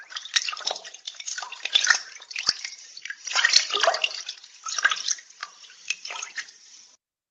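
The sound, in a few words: water flowing in a rocky creek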